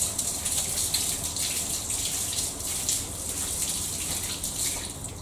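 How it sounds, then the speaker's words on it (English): Tap water runs steadily over a paint brush being rinsed in a sink, a constant close hiss and gush with no talking. "under the tap."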